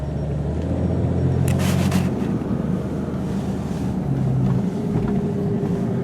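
A Jeep driving in four-wheel drive gives a steady, loud low engine and drivetrain rumble throughout, with wind buffeting the microphone and no talking.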